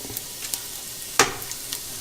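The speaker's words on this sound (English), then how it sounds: "we're going to start sauteing some of these vegetables. We'll start off with the garlic." Garlic sautéing in a pan for chicken tortilla soup gives a faint, low sizzle with a few soft stirring scrapes and one sharper hiss burst partway through.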